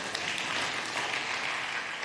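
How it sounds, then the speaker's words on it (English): An audience claps steadily throughout, a dense wash of hands without pauses, fairly close and filling the whole moment. "Your applause are so encouraging."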